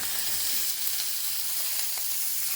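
Pork belly searing in a pan as its fat renders out, giving a loud, continuous, close-up sizzle with no talking.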